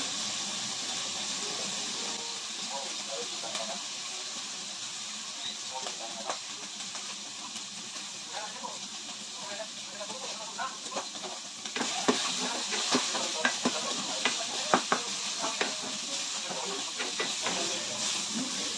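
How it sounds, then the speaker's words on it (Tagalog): Meat sautéed in cooking oil for a Filipino mung bean (monggo) dish sizzles and hisses steadily, with occasional sharp crackles and stirring that grow louder and busier toward the end. "Sinasangkot siya muna yung karne."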